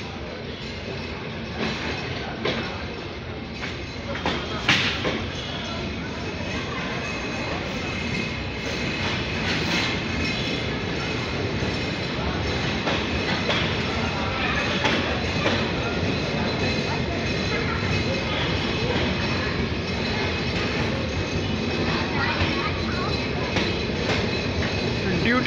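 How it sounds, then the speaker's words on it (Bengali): The Rupsha Express intercity train pulls out of Saidpur station in Bangladesh behind locomotive 6605, a steady close rumble of rolling wagons with clickety-clack wheel beats and faint squeals that holds loud throughout. "রূপের রানী রূপসা 6605 লোকোমোটিভ নিয়ে আউট করলো সৈয়দপুর।"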